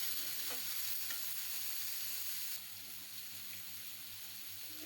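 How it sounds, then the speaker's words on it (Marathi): Tomatoes stirred and fried in oil for a Marathi-style padval (snake gourd) bhaji, a steady close sizzle with occasional scraping stirs, continuous throughout and dropping slightly in level midway. "टोमॅटो देखील पूर्ण विरघळेपर्यंत आपण यामध्ये भाजायचं आहे तेलामध्ये"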